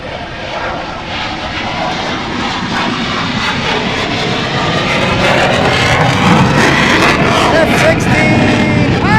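An F-16 fighter jet takes off at Portland International Airport with a loud, close, roaring engine that builds steadily as it climbs away, while people talk over the noise.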